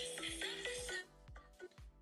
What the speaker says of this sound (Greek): Το κινητό χτυπάει τέρμα.